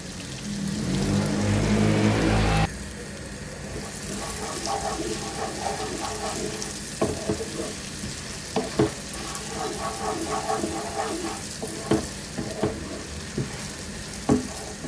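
Vermicelli frying in butter in a pan gives a steady close sizzle, opening with a louder burst and then settling into crackling with periodic stirring clicks.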